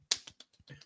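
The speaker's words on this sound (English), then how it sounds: "Golf clap." A slow golf clap: about six soft, widely spaced hand claps, quiet and close, with no voices.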